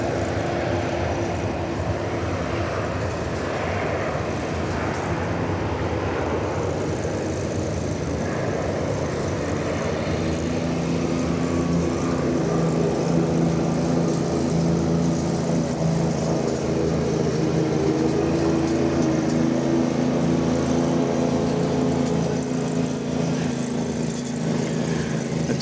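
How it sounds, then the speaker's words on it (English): A modern jet plane takes off at DFW Airport, a steady loud engine roar and rumble that holds for the whole stretch with no voices over it. "It's always so incongruous to see a modern jet plane rise into the sky with the sound of a four-cycle gasoline motor."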